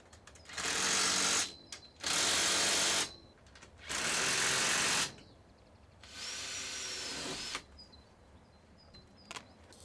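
Three loud bursts of a power drill whirring, each a second or so long, followed by a quieter, longer run of the motor driving a self-drilling screw through a P-clip on a polytunnel cover.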